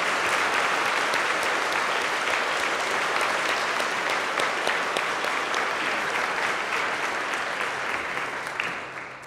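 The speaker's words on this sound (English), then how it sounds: "I'd like you all to round of applause for Nolene." Sustained audience applause at an International Women's Day breakfast event in Wellington, New Zealand, a dense steady clatter of many hands holding level for about nine seconds before starting to taper at the end.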